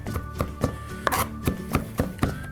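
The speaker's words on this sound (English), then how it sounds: "And I'll also give a better chop on this, a finer chop." A knife chops fresh garlic finely on a cutting board, with steady close taps repeating about every quarter second and no voices.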